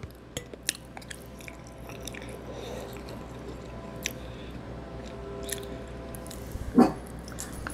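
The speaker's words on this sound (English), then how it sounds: "that was my dog." A dog makes soft chewing and licking sounds nearby, with faint clicks through a quiet room, then a single short louder vocal noise near the end.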